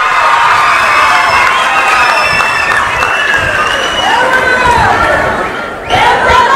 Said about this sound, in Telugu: గట్టిగా చప్పట్లు కొట్టి హర్షాన్ని వ్యక్తం చేయండి.